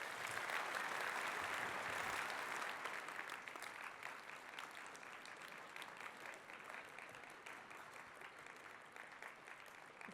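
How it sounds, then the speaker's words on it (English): A keynote audience plays a last-clap game: a room full of people applauding loudly and continuously, the dense clapping easing slightly after the first couple of seconds but carrying on to the end. "we're going to play last clap"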